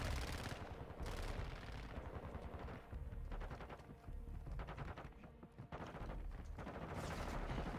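M13B rifle in Modern Warfare 2 firing rapid automatic bursts, dense rattling volleys with short pauses, loud within the game mix.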